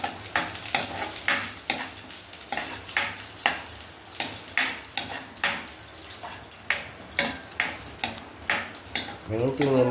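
Carrots fry in ghee for carrot halwa, a gentle sizzle broken by repeated rhythmic scrapes of a spoon stirring through the pan, close and moderately loud, with a brief faint voice.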